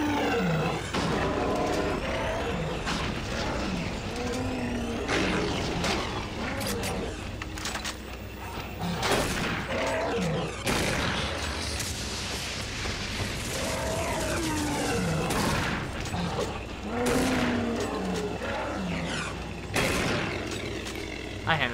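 Gunfire and roaring demon dogs in the Doom 3 video game, loud and continuous, with repeated bursts and growling roars through the whole stretch while a player talks over the action.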